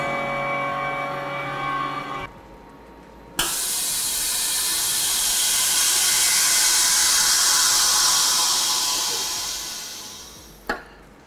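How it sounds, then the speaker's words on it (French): A vacuum sealing machine packs a cooled food product with water into a bag in a French kitchen, running as a loud steady hiss for several seconds and ending with a sharp click, after a quieter hum and a brief pause. "nous allons mettre notre produit refroidi avec l'eau sous vide"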